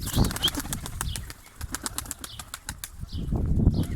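Rapid bursts of wing flapping from a Turkish tumbler pigeon (Sarıkır taklacı), loud and close, with brief pauses between flurries.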